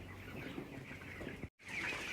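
Broiler chickens about two weeks old clucking together inside a chicken farm in Israel, a continuous dense flock chatter with scattered louder calls, brief dropout near the end, no talking.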